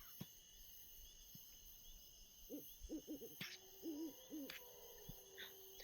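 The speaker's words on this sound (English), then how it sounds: "There's an owl." An owl gives a series of soft, low hoots in short groups, faint and somewhat distant, over a quiet night backdrop of steady high-pitched insect chirring.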